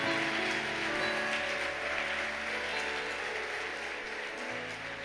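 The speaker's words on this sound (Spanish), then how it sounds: "Dale fuerte ese aplauso a Él." A church congregation claps loudly and continuously during a pastor's sermon, a thick sustained wash of applause with music tones underneath throughout.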